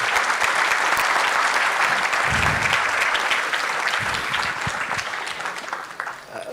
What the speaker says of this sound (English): I would request a huge round of applause for the authors